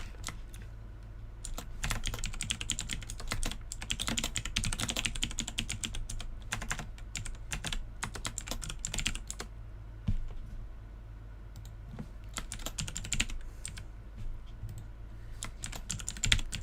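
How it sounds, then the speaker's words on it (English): Computer keyboard typing goes on nearby for most of the stretch, with rapid irregular clicks in bursts and short pauses, and no voice over it. "Sorry with the sound of my keyboard"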